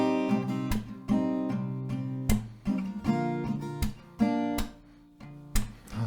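An acoustic guitar is strummed in a rhythmic pattern for a song, with sharp recurring strokes and ringing chords between them, played close and clear with no voice.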